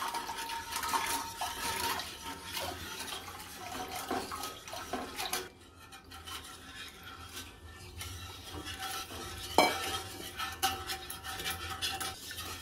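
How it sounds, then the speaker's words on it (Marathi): Yogurt mixture is poured and stirred into hot tempering in a kadhai for dahi kadhi, a close, continuous watery sloshing with occasional spoon clinks against the metal pan. "असं मिक्स करत करत आपल्याला टाकून द्यायचं आहे। एका हाताने मिक्स करायचं, एका हाताने ओतायचं आहे कढईमध्ये।"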